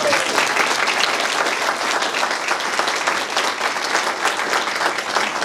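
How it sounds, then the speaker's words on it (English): A crowd at a ribbon-cutting ceremony claps for veterans, a steady, full round of applause from many people that stays loud and even from start to finish. "we ought to go ahead and give a clap to all the veterans"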